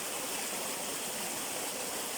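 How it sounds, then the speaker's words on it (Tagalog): A river running strongly after a night of heavy rain, its water rushing as a steady, dense, full-bodied wash of noise from start to end, close by with no voices. "Medyo malakas yung agos."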